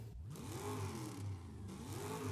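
A custom engine sound in the Forza racing game idles low and quiet, a steady mid-pitched hum with gentle rising and falling swells and no talking.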